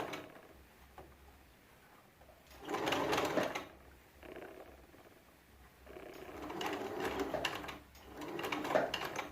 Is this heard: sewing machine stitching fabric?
yes